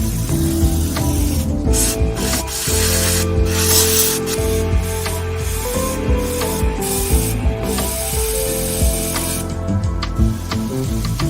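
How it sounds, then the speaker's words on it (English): A steam cleaner works over the cabin of a Mitsubishi Lancer during interior detailing, a close continuous hissing spray with rubbing and scrubbing strokes, broken by short pauses and bursts, and no talking. "we're using a steam machine to detail the rest of the cabin"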